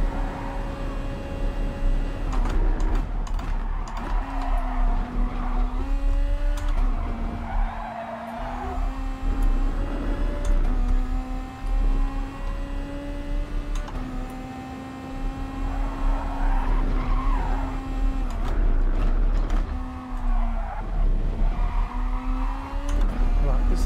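A Toyota Supra race car in the GT Sport racing game passes with a rising and falling engine whine and screeching tire squeal on a seaside track, repeated surges over several seconds, with a commentator's voice intermittently underneath.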